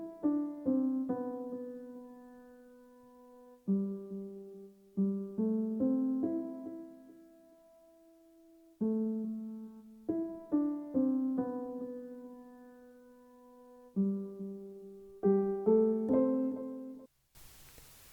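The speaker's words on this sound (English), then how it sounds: "the piano layer sounds like this" A vintage-style piano layer plays clean, separated chord stabs with light accents on top, in repeating phrases that ring and decay, ending in a short burst of noise.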